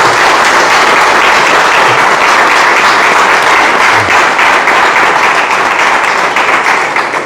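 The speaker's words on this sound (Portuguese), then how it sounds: "Uma salva de palmas bem fortes para vocês." Loud, sustained applause from an audience at a Mozambican-Portuguese community gathering, dense clapping filling the whole stretch without pause.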